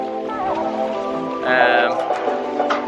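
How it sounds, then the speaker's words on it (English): Stormy weather moving in over a floating retreat in northern Thailand, with steady rain pattering on surfaces and wind blowing, loud and close; a voice can be heard over the downpour. "Storming coming in, as you can see behind me. Oh, it's really blowing too."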